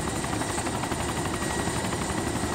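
A helicopter flies in the video game DayZ, giving a steady, dense rotor and engine roar that fills the short stretch without letup, loud and close, with no voices over it.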